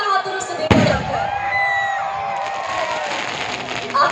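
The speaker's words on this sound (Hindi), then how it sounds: "आकाश रे बाण पडुछि," A firework bursts with a sharp bang at an outdoor stage event, followed by crackling and whistling trails over a steady crowd murmur, with voices on a loudspeaker throughout.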